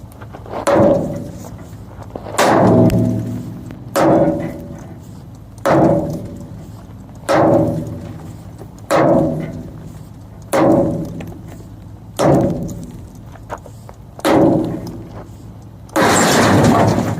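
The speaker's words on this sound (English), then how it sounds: "Gotta use the hateful 8-pound sledge." An 8-pound sledgehammer strikes a steel dump truck bridge about nine times in a slow, regular rhythm, each loud metallic clang ringing out and decaying before the next blow.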